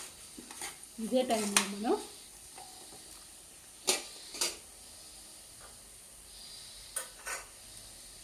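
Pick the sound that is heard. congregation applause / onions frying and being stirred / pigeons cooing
onions frying and being stirred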